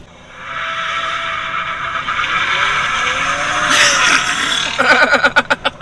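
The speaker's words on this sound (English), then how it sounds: "when the tires broke loose" The tires of a 2022 Ford Raptor running 37-inch tires break loose on pavement, producing a sustained rising squeal and skid that swells to a harsh burst before chopping into rapid pulsing bursts, heard from a short distance.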